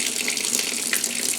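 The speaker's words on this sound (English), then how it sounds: "Turning my tap on." A tap runs steadily, water splashing in a bright, continuous hiss close by.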